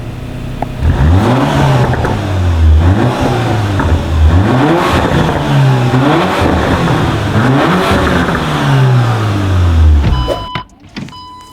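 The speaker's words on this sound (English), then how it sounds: "the quad exhaust, and here's how they sound." A matte-finished 2022 Porsche Macan GTS revs through its quad exhaust, several rising and falling sweeps of loud, close engine note in a rhythmic series, cutting off abruptly near the end.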